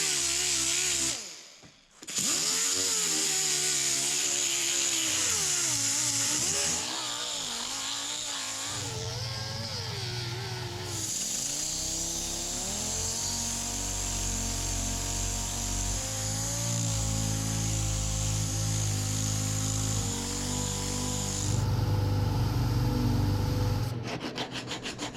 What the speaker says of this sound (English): I'm going to use 36 grit on a little Roloc disc here, and I'm just going to rough this out